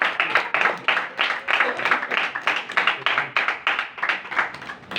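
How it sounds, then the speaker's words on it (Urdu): A church congregation claps loudly and rhythmically in praise of Jesus, with steady, close, energetic bursts of handclaps throughout and no voices over them. "یسوع خدا کے لیے ایک بار زوردار تالی ہے۔"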